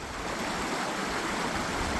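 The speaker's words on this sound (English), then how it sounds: "So I'm just stopped by the stream or the beck" A small beck in Teesdale flows steadily, a continuous close rushing of water over stones with no voices.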